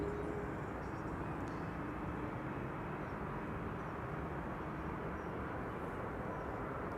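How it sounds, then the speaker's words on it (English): A Delta Air Lines Airbus A350 departs Schiphol airport, its jet engines a steady, distant broadband roar that holds constant and fairly faint throughout, with no voices. "we are seeing another A350. Delta Airlines Flight 133 back-to-back Delta A350 departures"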